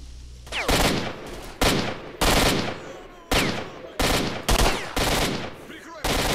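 Rapid bursts of automatic gunfire in Stalker Shadow of Chernobyl, loud and close, coming in repeated volleys separated by brief pauses.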